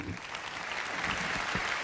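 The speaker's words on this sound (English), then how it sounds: "I'm sure there are people from Wales clapping right there." A conference audience in Birmingham applauds, a steady dense wash of clapping hands that continues without a break, moderately loud and close.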